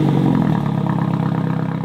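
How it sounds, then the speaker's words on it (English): A MINI John Cooper Works car fitted with a Pro exhaust fires up nearby, giving a loud, rough, throaty engine burst that settles into a dense rumble with no talk over it. "Now, we are ready to turn on the car."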